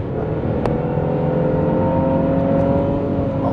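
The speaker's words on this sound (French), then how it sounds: "tout ça en entendant le bruit du V6" A V6 car engine hums steadily with a smooth, muffled tone, heard from inside the cabin of a late-1990s car, with a faint click partway through.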